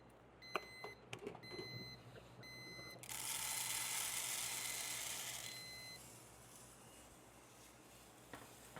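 An electronic device beeps in several quick clusters of high tones, followed by a loud sizzling hiss and a few clicks nearby.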